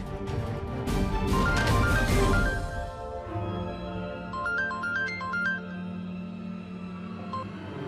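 A phone ringtone plays as a short, bright, melodic chime pattern partway through, over steady background music after a louder musical swell, with no talk.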